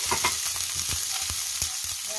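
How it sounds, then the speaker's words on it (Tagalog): Onions sauté in a pan over browned garlic for a bihon stir-fry, a continuous close sizzle broken by quick scraping stirs. "Gisahin natin ng konti yung sibuyas."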